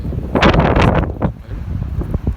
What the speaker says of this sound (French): désolé avec le vent, il y a beaucoup de vent